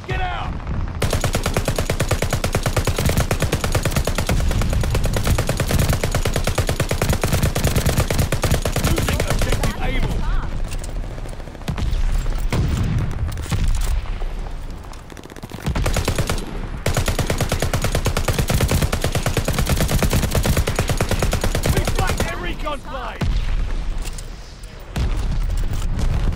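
Call of Duty: Vanguard battle with near-continuous machine-gun fire and booming mortar impacts, loud and dense with brief lulls, while voices call out over the combat.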